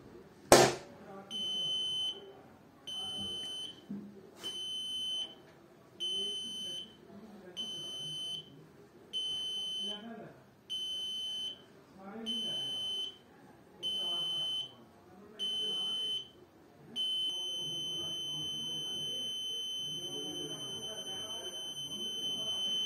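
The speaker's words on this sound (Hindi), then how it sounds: "अगर ये 10 बीप होने से पहले हम इस बटन को प्रेस कर देते हैं तो ये मैसेज जनरेट नहीं करेगा।" An Arduino accident alert system's buzzer beeps in a steady countdown of about ten short, evenly spaced high-pitched beeps, then holds a continuous tone, over faint background noise.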